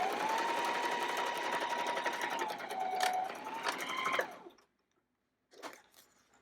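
A sewing machine stitching a wet bag with short runs and back stitching, a whirring mechanical hum with a steady tone that shifts pitch slightly, then stops, followed by a short burst of sewing after a pause; close and unaccompanied by talk.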